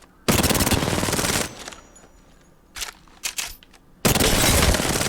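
Rapid automatic gunfire from a video game comes in two loud bursts of about a second each, with scattered single shots and clatter in between.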